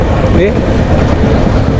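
A loud, steady rumble of a train in motion in Rajasthan, heard from inside a carriage, fills the space, with a constant low roar and faint voices beneath.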